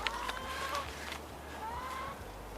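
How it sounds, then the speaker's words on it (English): Chickens cluck softly at a distance, a few scattered calls over steady outdoor background noise, with no talking. "Still got my chickens."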